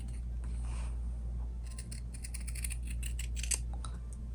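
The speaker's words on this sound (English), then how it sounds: "I'm going to cut this so that way I can cut two at the same time" Scissors snip through fabric folded in half, a close run of quick, crisp cuts clustered toward the end over a steady low hum.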